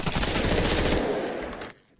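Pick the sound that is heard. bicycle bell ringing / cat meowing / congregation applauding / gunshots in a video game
gunshots in a video game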